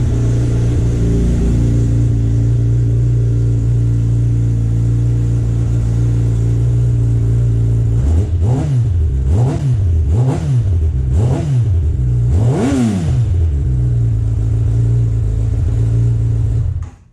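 A 2019 Kawasaki ZX10R motorcycle on its stock exhaust pipe idles steadily and close, then gets blipped into five sharp revs that rise and fall in quick succession before settling back to idle.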